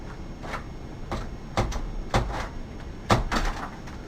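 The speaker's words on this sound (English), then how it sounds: "Now I'm going to open the door." A hard-to-open house door is worked at, giving a series of sharp knocks, rattles and clunks spaced unevenly over a few seconds, fairly close, with no voices.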